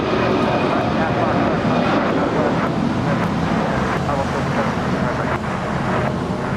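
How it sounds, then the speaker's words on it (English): An Airbus A330-300 airliner taking off on runway 25 right at LAX, a loud continuous roar of jet engines mixed with wind rumble on the microphone, steady throughout. "A330-300 now rolling down 25 right"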